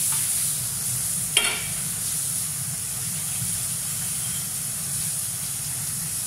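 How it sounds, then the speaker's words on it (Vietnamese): Sticky-rice-wrapped chicken frying in a pan, giving a steady close sizzle and hiss throughout with one brief louder clatter early on, no talk. "Đây là món gà bó xôi mà anh chủ tịch Phú anh đã rán xong được một nửa rồi"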